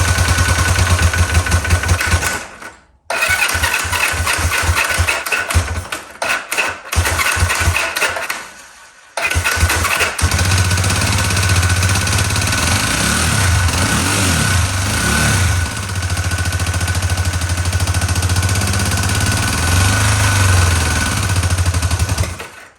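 A motorcycle engine with a carburettor fires up and runs, loud and close. The steady, rough running cuts out briefly twice early on, then catches and holds through to the end without speech.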